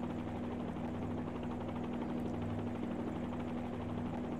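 A helicopter hovers in a flight simulator video game: a steady, loud rotor drone with a constant engine whine that never changes in pitch or level throughout, and no speech.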